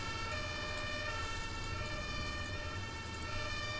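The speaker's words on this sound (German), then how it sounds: "kommt überall Krankenwagen, ne?" Ambulance sirens in the bus simulator game OMSI 2 form a steady, dense electronic wail with layered tones that holds continuously at moderate level, with no talk over it.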